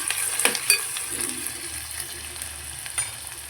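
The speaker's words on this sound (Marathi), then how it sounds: "दीड चमच तेल ॲड केलेलं आहे पण त्याच्यामध्ये ते गरम होऊ द्यायचं आहे टाकायचं आहे टोमॅटो घातलेला आहे म्हणजे व्यवस्थित हलवून घ्यायचं" Chopped tomato sizzles in hot oil in a pan while being stirred, a steady close crackling hiss with occasional scraping taps from the spoon.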